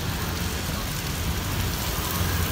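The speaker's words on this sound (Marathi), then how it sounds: "एवढाच भर पावसाचा आहे" Heavy rain pours down at Kalamb beach, a loud, unbroken roar of drops with a low rumble underneath, close and constant throughout.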